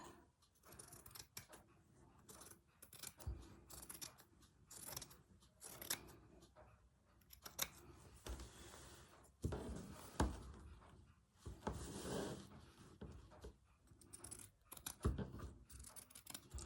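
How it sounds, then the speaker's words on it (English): Scissors snip repeatedly through a piece of fabric in a quiet sewing room, giving irregular close crisp cuts spread across the clip with brief pauses between bursts. "when you start cutting into a piece of fabric"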